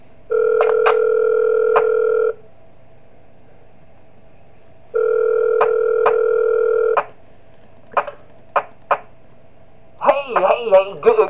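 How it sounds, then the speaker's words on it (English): Phone ringing in the horror video game Five Nights at Wario's 3: two long bursts of an electronic trill, then a few short beeps and a crackly recorded voice starting over the line. "I will mute the phone call since I don't need to hear it"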